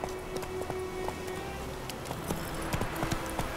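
A horse runs in The Witcher 3, its hooves beating a quick, steady clip-clop over loud background game ambience.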